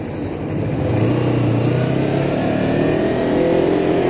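A Honda F4i sport motorcycle ridden along Mulholland Drive, its engine droning steadily with a rising, humming pitch under heavy wind rush, loud and close throughout.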